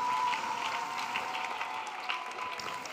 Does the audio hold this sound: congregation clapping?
yes